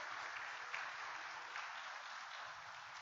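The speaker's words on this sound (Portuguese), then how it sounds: "Uma salva de palmas para Jesus," A church congregation at a Sunday family service claps in a continuous, dense round of applause, heard steadily and somewhat faintly through the room.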